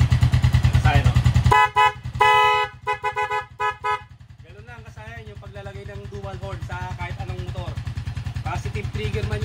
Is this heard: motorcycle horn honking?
yes